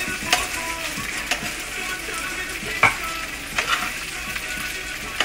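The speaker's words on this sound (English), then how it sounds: "Just mixing everything together" A spoon stirs macaroni with corned beef in a pot for Jamaican white rice and corn beef, making steady scraping and clinking under a constant frying sizzle, close by with no talking.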